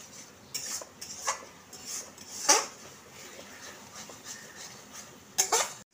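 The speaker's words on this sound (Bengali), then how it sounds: "আমি অল্প করে জল দিয়ে ভালো করে আরেকবার কষে নিচ্ছি" A spoon works a Bengali spice paste with a splash of water in a pan for egg kofta curry, giving quiet intermittent scrapes and sharp metallic clinks spread over several seconds.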